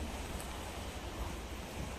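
Floodwater rushes over the Pattambi bridge in Kerala, a dense, steady roar of flowing water with wind buffeting the microphone.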